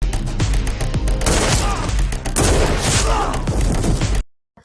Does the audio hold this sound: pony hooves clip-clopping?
no